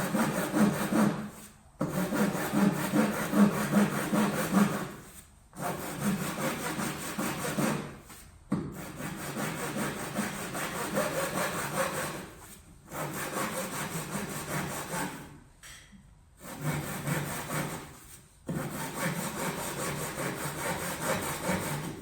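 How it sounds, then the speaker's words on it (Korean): A hand saw cuts through wood in long, rhythmic back-and-forth strokes, loud and close, with several short pauses between bursts of sawing. "일직선이 잘 맞는지 보면서 톱질을 하세요."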